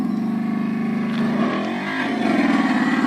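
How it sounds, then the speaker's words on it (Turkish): An electric motorbike's synthetic engine sound system responding to the throttle, a loud continuous buzzing engine-like tone that holds steady, dips briefly, then swells again as the throttle opens. "İstediğiniz kadar gaz verirseniz ses yükseliyor."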